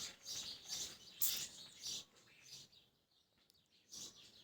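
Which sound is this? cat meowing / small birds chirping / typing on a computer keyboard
small birds chirping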